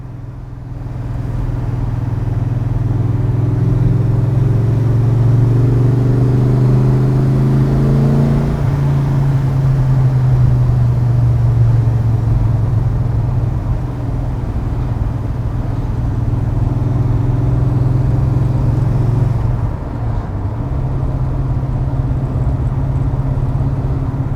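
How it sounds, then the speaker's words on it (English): A deep-toned GT40 sports car V8 rumbles steadily nearby, with one brief rev swelling and settling back to a loud, throbbing idle. "The noise from the V8, even on idle, just makes everyone stop and look"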